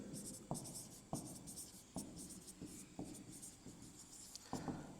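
Pen or marker writing during a lecture on truss analysis, scratching steadily across five seconds with sharp strokes and taps every second or so, close and fairly quiet.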